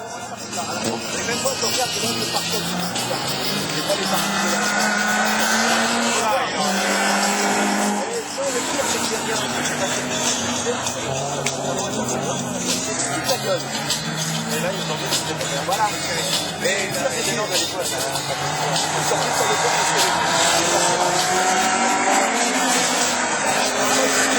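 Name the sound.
rallycross car engines revving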